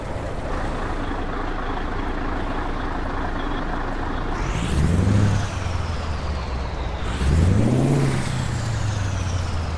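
A Mack Superliner 450 V8 truck with a 13-speed gearbox and retarder in American Truck Simulator, its engine droning steadily, then revving and climbing in pitch twice as it pulls through gears, loud and close.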